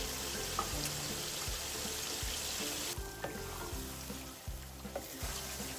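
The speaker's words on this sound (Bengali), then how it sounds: "এখন আমি এতে দিয়ে দিব মাছগুলো।" Rita fish dropped into spice masala frying in a pan, giving a soft, steady sizzle with faint clinks and stirring scrapes, quiet and close, with the hiss shifting midway.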